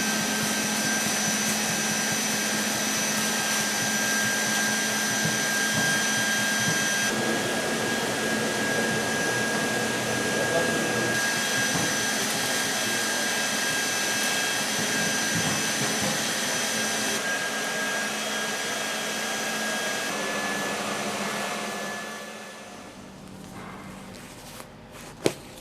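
Univercell insulation blowing machine running on a building site, a steady loud whooshing motor roar with a whining tone that holds for about twenty seconds before winding down, followed by a sharp knock at the end.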